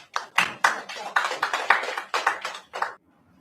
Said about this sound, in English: Only 3 people clap.